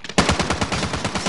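Rapid automatic gunfire in a multiplayer shooter video game, a loud, continuous burst of evenly spaced shots with no voices over it.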